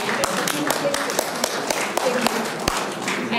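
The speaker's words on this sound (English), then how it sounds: "could we just give Robin a round of applause?" An audience claps in a round of applause for Robin at a lecture on brain health and Alzheimer's disease, a steady, dense patter of many hands sustained throughout with a few sharper individual claps standing out.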